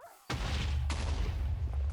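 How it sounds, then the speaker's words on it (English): Giant explosion in the video game Tensura: Roguelited bursts in suddenly with a heavy boom, then a second blast follows and a thick low rumble keeps rolling loudly to the end. "Giant explosion."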